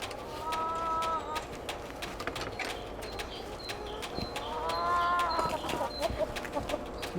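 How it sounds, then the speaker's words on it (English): Chickens cluck and chatter among other bird calls outdoors, a continuous busy flock sound with higher tonal calls rising over it. "Chicken."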